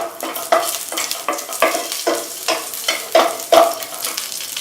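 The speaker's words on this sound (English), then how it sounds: "add about 1 to 2 tablespoons of raisins and saute till it starts to swell nicely in this ghee" Raisins sautéing in ghee in a pan sizzle steadily while a spoon stirs them, giving loud, close scraping strokes in a regular rhythm of about one every half second, with no talking.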